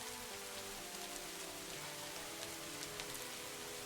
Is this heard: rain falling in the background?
yes